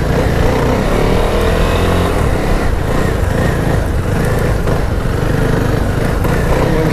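A CF Moto 250SR motorcycle held in second gear sends out a loud, steady engine drone with wind rush through the whole ride, recorded up close from the bike with no pauses.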